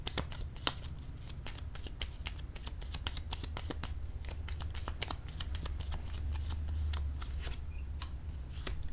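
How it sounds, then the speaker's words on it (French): Tarot cards being shuffled and laid down: a continuous, close, crisp riffling with dense rapid flicks and occasional sharper snaps of cards, steady throughout with no pause and no voice. "Ici, je vais déposer une carte sur les deux."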